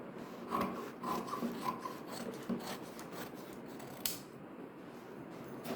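Scissors snip through old silk saree fabric while a long gown is cut out, giving quiet repeated rasping cuts with soft rubbing of cloth between them, close and alone.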